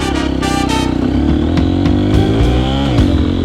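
A dirt bike engine revs hard and pulls away, a loud buzzing two-stroke-like whine with throttle blips and pitch changes as it rides off nearby.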